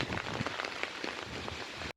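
Rain patters steadily on wet, muddy ground outdoors at a spot where coconuts are being husked, a dense, even spatter that cuts off abruptly at the end, with no talking.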